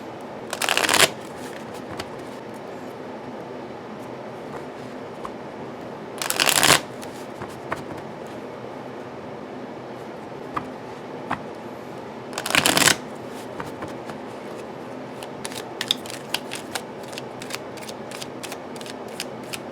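Oracle cards riffle-shuffled in three short, crisp bursts spaced several seconds apart, close up, with quiet handling clicks in between.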